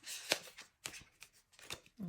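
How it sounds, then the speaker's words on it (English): Tarot cards riffle and snap in quick bursts, several sharp shuffles close up with brief pauses between them. "I do shuffle more on camera than what I would usually"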